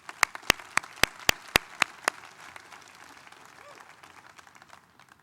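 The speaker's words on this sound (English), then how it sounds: "please join me in giving all of the award recipients a round of applause" An awards plenary audience greets the award recipients with a handful of sharp, loud, evenly spaced claps near the microphone. The claps stop after about two seconds and leave faint room noise.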